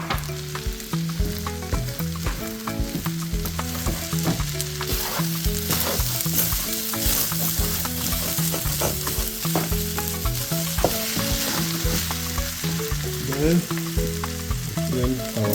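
Shrimp fried rice with bouillon being stir-fried and tossed in a pan, a loud constant sizzle under repeated rhythmic clanks and scrapes of the utensil against the pan, with no talking.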